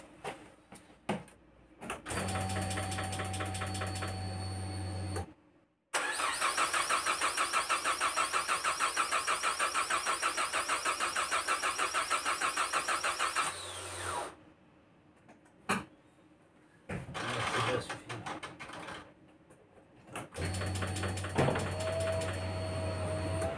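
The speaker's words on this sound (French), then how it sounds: "Allez, on va faire tourner le moteur." A Peugeot 206 CC 2.0 16V engine cranks with the starter in several separate bursts, briefly catches and runs a loud, steady idle for about eight seconds, then cuts out before further cranking attempts.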